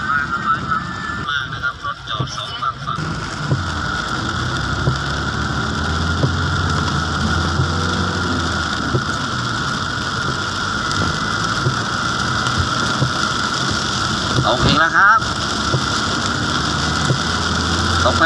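Heavy, steady rain pours during storm Noru in Nakhon Nayok province, Thailand, a dense continuous wash that stays loud for the whole stretch, with a low hum beneath it and no clear talk over it.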